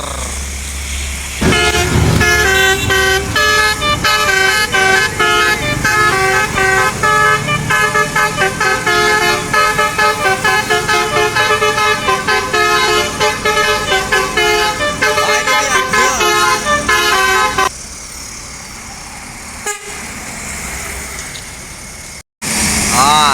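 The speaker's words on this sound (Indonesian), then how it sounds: "Ini bus Mior." A Mior bus on the road blasts a loud, melodic multi-tone horn that blares almost without a break for about fifteen seconds, then gives way to engine and traffic noise with voices.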